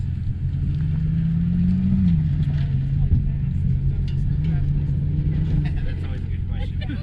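A Ford Bronco Raptor on an off-road course near Mt Potosi, Las Vegas, coasts with a steady low drone that shifts in pitch, then builds as it accelerates away, under continuous nearby talk.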